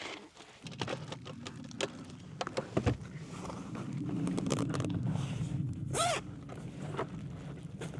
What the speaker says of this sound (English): Then I just pull the zipper back down around it.